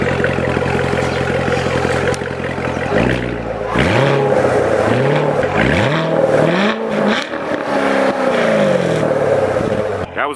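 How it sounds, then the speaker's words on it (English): A Chevrolet C7 Corvette's engine idles loudly, then revs repeatedly in rising and falling sweeps, close and prominent, with the exhaust popping between revs. "then I'm gonna rev it up for you guys"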